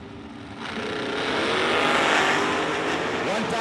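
A dragster roars at a drag strip during a bracket racing event, a loud broad engine blast that swells and holds, with an announcer's voice faintly under the noise.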